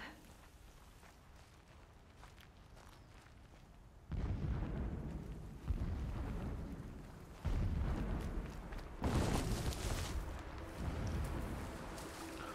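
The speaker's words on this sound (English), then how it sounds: "Lots of explosions, terrible things, and we're just wading right into it." Horizon Zero Dawn game explosions: a quieter rumbling stretch, then loud booming blasts arrive in successive waves, each a sharp onset followed by sustained heavy rumble.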